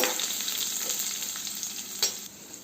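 Mustard seeds, dry red chillies, curry leaves and garlic crackle and sizzle in hot oil for an okra fry, a steady close frying hiss with a brief sharp spatter near the end.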